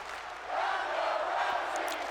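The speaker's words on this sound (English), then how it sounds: "The crowd is kind of behind Ronda Rousey right now" A video game arena crowd from WWE 2K20 NXT Universe Mode cheers in a steady, broad roar that swells after the first half-second and holds loud to the end, with no speech over it.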